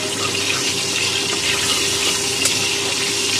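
Black cumin seeds with a dried chilli and a green chilli sizzle steadily in hot mustard oil left from frying fish, a close, continuous hiss without pause.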